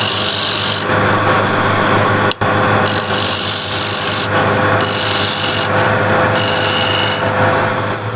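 Lathe scraper shear-scraping a spinning walnut and ash bowl, a loud continuous rasping hiss over the lathe's steady hum, swelling and easing with each pass, with one brief cut-out.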